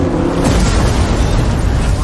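A car blowing up in an action film, a loud rumbling boom that fills the clip with dense, roaring low noise and sustained debris-like crackle, with no talking.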